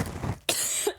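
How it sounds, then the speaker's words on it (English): A single sharp cough close to the microphone while someone tidies a cluttered balloon studio, preceded by soft rustling and a faint breathy throat sound. "Trying not to cough directly into the microphone."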